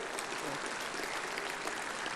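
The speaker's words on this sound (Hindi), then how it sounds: "एक बार इनके लिए जोरदार ताली बजाइए जरा सबके लिए" An audience at a Patanjali gathering gives a round of steady, even applause, a dense wash of clapping from many hands heard at moderate distance.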